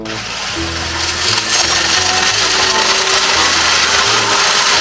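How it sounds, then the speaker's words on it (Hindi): An electric drill with a large bit bores a hole into a wall at home, a loud continuous grinding whine that rises and holds steady, with no talking over it. "होल करने के लिए यहाँ पर आपको चाहिएगा मशीन जरूरी है, और वो भी बड़े वाला वर्मा।"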